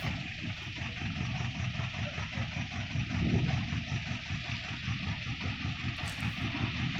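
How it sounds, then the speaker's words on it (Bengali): A fishing trawler's engine chugs slowly with a steady, low, mid-loud rumble as the boat turns at a canal mouth near the Sundarbans, swelling briefly midway. "খালের মুখে থাকার কারণে ট্রলারটি খুবই আস্তে চালিয়ে ঘুরিয়ে নিচ্ছে"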